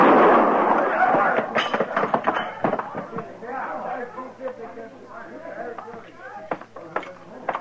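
Gunshot in a radio western drama, a sharp report amid excited, overlapping voices and shouting, with a further bang later under the dialogue.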